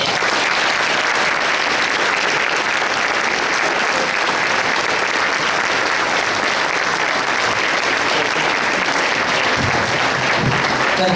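A political audience at a Washington Republican event welcomes speaker David Barton with steady, sustained applause from a large crowd, dense and even throughout without pause.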